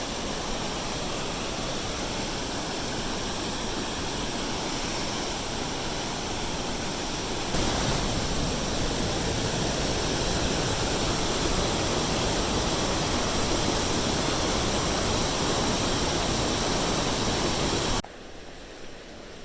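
Kentucky Falls in Oregon roars loudly and continuously, a dense rushing wash of water close by, heard from a wooden platform at its base, with no voices.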